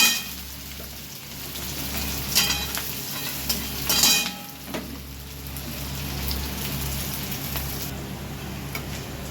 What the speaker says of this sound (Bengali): পেঁয়াজ কুচি দিয়ে একটু ভাজা ভাজা করে নেব